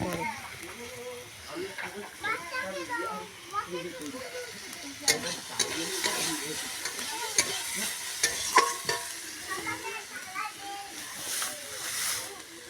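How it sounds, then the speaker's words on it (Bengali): Leafy greens fry in a pan with a crackling sizzle and repeated stirring scrapes, while people talk throughout over the cooking noise. "শাকগুলো ভাজা হবে, শাক ভাজা"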